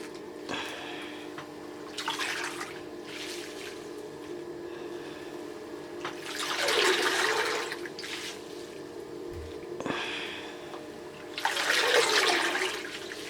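Running water rinses passion twist hair in a basin, a hissing splash that rises and falls in several surges with drips and small clunks between, heard up close.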